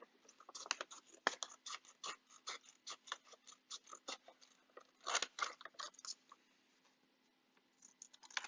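Scissors snipping through paper while cutting out the second side of a stuffed paper football, a steady run of quick, close, quiet crisp cuts with a short pause near the end.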